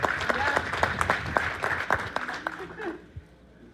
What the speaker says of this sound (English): All right, give our panel a round of applause.